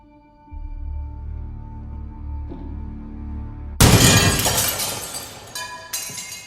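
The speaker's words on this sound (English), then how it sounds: "for the glass breaking sound effect, the jerk off editing this layered it like 5 times over" Glass shattering in a movie scene, layered several times over: a loud, dense crash bursts in partway through after a low rumbling hum, then scattered tinkling debris trails off, no voices.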